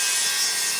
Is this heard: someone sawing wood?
yes